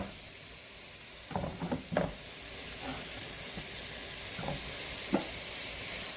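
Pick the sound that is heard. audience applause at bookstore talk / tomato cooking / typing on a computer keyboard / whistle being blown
tomato cooking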